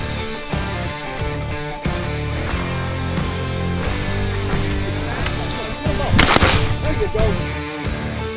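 Shotguns fire at ducks during a Texas duck hunt, several sharp reports spaced a second or two apart and a louder blast near the end, with hunters' voices under the shots.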